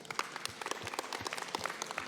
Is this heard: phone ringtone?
no